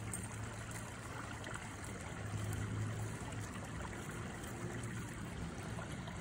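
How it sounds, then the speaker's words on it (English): A small stream flows in a steady, even wash of running water heard from close by, with no voices and only a faint low hum beneath it. "Look at the stream."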